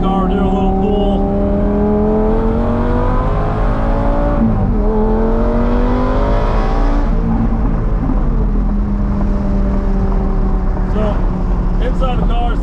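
A car engine with a muffler-delete race pipe exhaust revs up steadily under hard acceleration, a loud, raspy exhaust drone rising in pitch, with a brief dip mid-pull, heard from inside.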